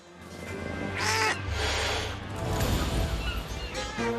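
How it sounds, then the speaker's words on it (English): An angry cat in a video game hisses and yowls in a harsh, raspy burst, loud and close, over a low rumbling background. "Sounds like one angry little cat."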